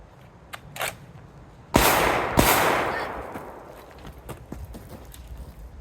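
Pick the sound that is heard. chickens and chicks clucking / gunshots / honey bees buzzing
gunshots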